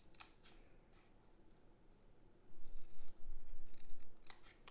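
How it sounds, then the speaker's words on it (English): Scissors snip paper along a score line for a small Easter bunny shadow box, a few sharp crisp cuts at first, then a louder run of quick close snips near the end. "So I'm going to go ahead and cut up the short score line"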